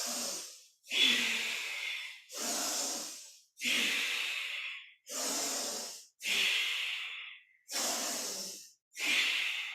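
Deep, close breathing during a somatic exercise practice, about eight long, even breaths with short pauses between them, each with an airy, rushing tone, and no talking.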